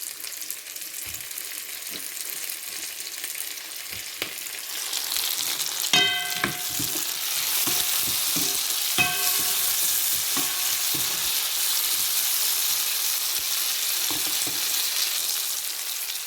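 Tomato added to a pan of prawn and capsicum rice masala fries with a steady, loud sizzle, while a spoon scrapes and stirs in sharp clinks and taps throughout, with no voices.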